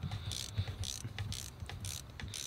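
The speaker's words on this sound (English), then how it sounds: "Grab my big ass ratchet here." A large hand ratchet clicks in quick, repeated bursts while it tightens a spark plug on a Mercedes E320, the strokes close and fairly faint with no talking.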